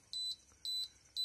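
A homemade heat pump built from an air conditioner sounds its controller, three evenly spaced high electronic beeps, each about a fifth of a second long, clear and alone against a quiet background.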